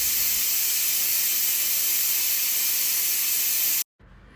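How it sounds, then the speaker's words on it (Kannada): A pressure cooker of chicken mixed biryani lets off steam with a loud, constant, close hiss that runs unbroken for nearly four seconds, then stops abruptly, leaving quiet room tone. "ಇವಾಗ ನಾವು ಕುಕ್ಕರ್ನ ಮುಚ್ಚೋಣ. 2 ಕೂಗು ಬಂದರೆ ಸಾಕು"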